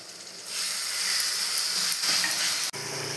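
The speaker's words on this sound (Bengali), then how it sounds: "দিয়ে দিচ্ছি আদা রসুনের পেস্ট। খুব ভালো করে একটু কষিয়ে নেব।" Ginger garlic paste and chopped tomato fry for a homemade biryani, a bright close sizzle that swells after a quiet start and keeps hissing steadily, with a brief clatter near the end.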